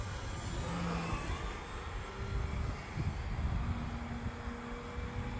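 An FMS Pitts RC biplane, roughly 1400 to 1500 millimeter span, drones past overhead with a steady, moderately distant engine whine that rises and falls slightly, heard alone outdoors.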